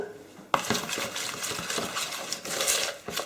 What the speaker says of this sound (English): And then just mix it until it gets blended all together.